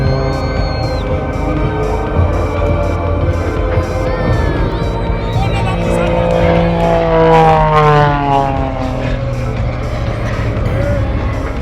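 Propeller-driven aerobatic airplane performing at the Polokwane Airshow 2024, its engine drone rising and sweeping in pitch as it hovers and maneuvers, loud and steady over crowd noise with a commentator talking over it.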